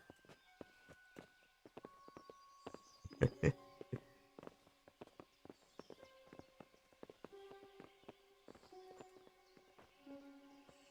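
Horse hooves clip-clopping at a walk in the medieval game Kingdom Come, a steady irregular series of clear knocks with a brief louder cluster, over quiet ambient music.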